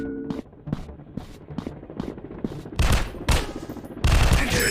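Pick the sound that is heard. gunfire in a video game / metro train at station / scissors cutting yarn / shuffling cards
gunfire in a video game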